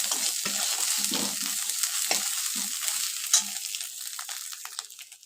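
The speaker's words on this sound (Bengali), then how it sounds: "হলুদ গুঁড়ো দিয়ে মশলাটা আরও কষাচ্ছি" Ginger and green chili spice paste with turmeric powder frying and being stirred in a pan, a steady close sizzle with soft scraping strokes of the spoon at an uneven pace, no voices.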